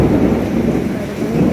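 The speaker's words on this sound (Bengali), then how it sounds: "মেঘের গর্জন শুনতে পাচ্ছ তোমরা?" Low thunder rumbles through steady falling rain, a dense continuous roar with no voices.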